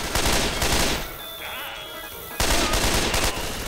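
Gunfire from Left 4 Dead 2, dense bursts of loud rapid shots for about a second, a brief lull under game noise, then another heavy burst resuming.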